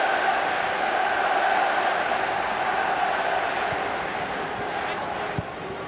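Steady roar of a large football crowd at Celtic Park during a testimonial match against Sevilla, a broad, continuous murmur and chant filling the whole stretch at even loudness, with a faint thud near the end.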